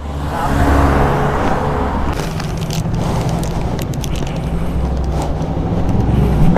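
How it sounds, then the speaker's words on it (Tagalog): Road traffic rolls past a delivery rider on a motorbike, a loud steady rumble of car engines with cars passing close by and some revving, no talking. "Gumagalaw yung traffic."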